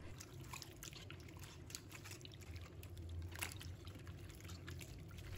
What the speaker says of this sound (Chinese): 要多清洗几遍，确保盐分和杂质彻底洗净。